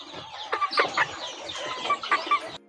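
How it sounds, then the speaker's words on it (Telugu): A country chicken rooster clucks close by in a series of short, throaty bursts, fairly loud, with no talking. "ఇది వచ్చేసి మన మేల్ అనమాట పుంజు నాటుకోల్లో పుంజు"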